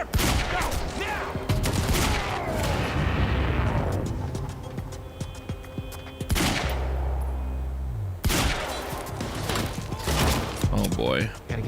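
Gunfire rattles through a shootout in the video game Quantum Break, with bursts of automatic fire and heavy booms in dense volleys, loud and close, mixed with game music and talk over the action.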